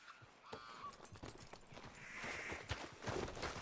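Horse hooves clip-clopping in Red Dead Redemption II, a steady run of soft hoof thuds under a brief whinny-like call, mixed with rustling outdoor game ambience, moderately close, no one speaking.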